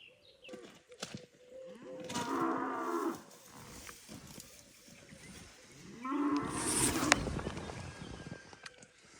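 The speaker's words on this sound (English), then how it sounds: "surrounded by cows." Cows mooing close by in a rural wilderness camp setting, two long low drawn-out moos a few seconds apart over light outdoor background noise.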